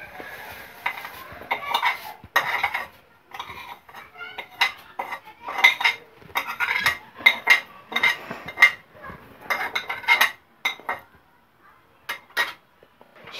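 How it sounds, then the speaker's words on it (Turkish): A metal spoon stirs vermicelli in a pot for sheer khurma, a run of scraping clinks and knocks against the pot in an uneven rhythm at close range. "Şimdi bakın biz bunu karıştırıyoruz"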